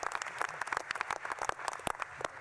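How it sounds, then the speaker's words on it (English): Applause from the audience at a National Space Council meeting, a brief burst of dense, crisp clapping with no talking over it. "So how about another round of applause for Secretary Ross and Secretary Chow,"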